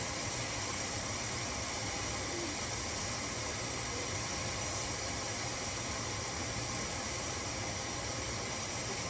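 Steam hisses continuously and evenly from the vent of a pressure canner while pinto beans are being canned, a steady close hiss that stays level throughout with no talking.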